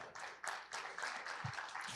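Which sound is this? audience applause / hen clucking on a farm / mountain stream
audience applause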